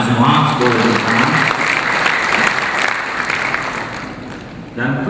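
A conference audience at the 15th Indonesian Obstetrics and Gynaecology Congress in Bali gives sustained, dense applause that fades slightly toward the end, with a voice speaking over it at the start and close.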